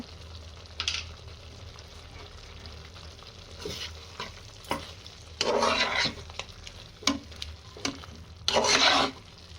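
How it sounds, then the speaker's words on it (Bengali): Prawn malai curry gravy bubbles in a pan while a spoon stirs and scrapes in several bursts, with quieter simmering between them; close and with no talking. "এবারে গ্রেভিটা একটু ফুটিয়ে নেব"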